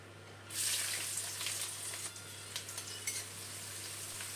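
Chopped onions hit hot oil and whole-spice tempering with a sudden bright sizzle that settles into a steady frying hiss, a few stirring clicks, and a low background hum.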